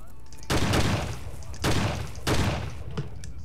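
Weak gun firing in Fallout 3, three loud close bursts of rapid gunfire spaced apart, each decaying into a rumbling tail.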